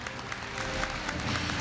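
Brief burst of audience applause at a Korea University entrance ceremony, many hands clapping together and swelling slightly louder toward the end.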